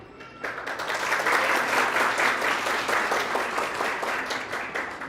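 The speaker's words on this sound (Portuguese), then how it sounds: "Uma salva de palmas." Audience applause at a university book-donation ceremony honoring the vice-rector of UNEMAT, a dense, steady round of many hands clapping that swells quickly and holds at full strength for several seconds.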